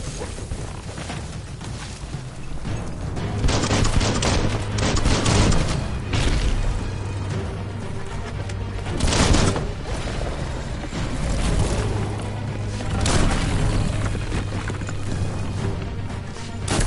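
Gunfire in the Biomutant video game crackles in a loud, dense stream of bursts and impacts, layered with booms and mechanical clatter, with no pause throughout.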